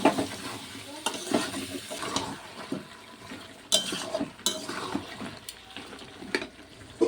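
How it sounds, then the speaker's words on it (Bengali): Kohlrabi, beans and potato sautéing with spices in a pan, a quiet sizzle under intermittent spatula scrapes and knocks, irregular and close. "এখন সবজিটিকে দিয়ে মশলার সাথে খুব ভালোভাবে কষিয়ে কিছুক্ষণ রান্না করে নেব।"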